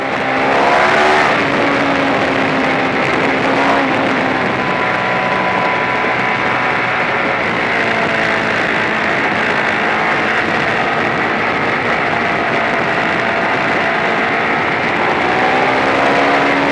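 A Ducati Diavel Carbon motorcycle with an aftermarket exhaust adding 12 horsepower, engine and exhaust droning loud and steady while riding, with the pitch shifting as it accelerates and holds speed, and no talk over it.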